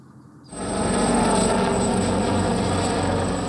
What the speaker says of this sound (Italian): L'elicottero dei vigili del fuoco sorvola l'area alluvionata di Fornace Zarattini